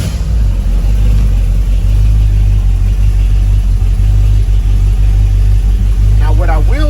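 A 1964 Chevrolet Impala SS with a 327 V8 runs loud and close, a steady low rumbling idle with a slight rev near the end.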